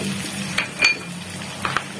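Egg added to a pan of boiled potatoes fries with a low steady sizzle, broken by a few sharp clinks of a utensil against the pan, close and fairly quiet, with no voices.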